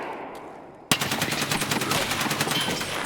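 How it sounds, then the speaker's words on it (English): Automatic gunfire in Escape From Tarkov starts abruptly after a quiet moment, a rapid run of close, loud shots repeating without a break to the end. "Oh, the recoil on this gun is terrible."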